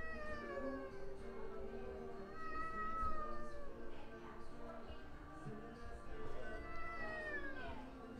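A shy, hungry cat meows repeatedly in long, drawn-out calls at a New Year gathering at home, quiet and a little distant beneath low background murmur.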